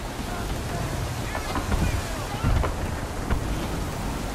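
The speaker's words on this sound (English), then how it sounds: "Heavy gusts, Captain!" Strong wind and rolling sea waves surround a sailing ship in Assassin's Creed III, a steady roaring broadband wash with gusting swells, heard throughout at fairly high level.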